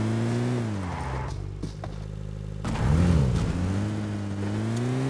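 A car engine in the video game PUBG Mobile on the Livik map revs steadily, its pitch dipping and swelling around the middle as the vehicle turns, with a continuous mid-range drone and no talking.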